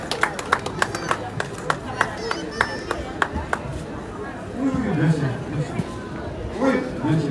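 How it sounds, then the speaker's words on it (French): A small audience at a French community gathering claps for a speaker: scattered, fairly sharp claps for a few seconds, then they fade into murmured crowd chatter and voices. "un petit applaudissement"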